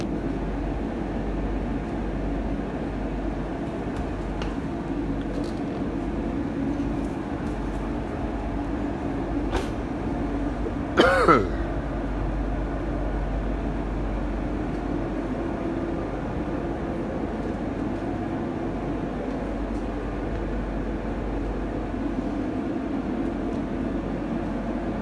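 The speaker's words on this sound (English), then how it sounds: "Basically, the train just goes from here to there." A train runs through the Channel Tunnel under the sea, heard from inside as a steady, loud low rumble throughout. A brief metallic squeal cuts in midway, and no one speaks.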